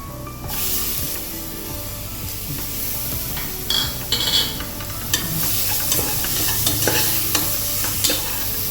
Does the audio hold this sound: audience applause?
no